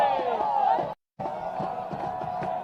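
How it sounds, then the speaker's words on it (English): A crowd cheering at an evening Belmont soccer match, a continuous distant roar of voices with scattered shouts, broken by a brief dropout partway through. "I'm sure you can hear the crowd in the background."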